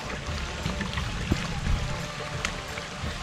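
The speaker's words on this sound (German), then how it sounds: "plätschert der Bach hier und rauscht der Regen am Blätterdach" A forest brook babbles steadily in the Asbach valley with a soft rushing of rain on the leaf canopy in the background, while a person talks over it.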